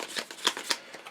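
Cards slid from a deck in the card game Renegade, a few soft papery swishes and snaps close by, alone and quiet.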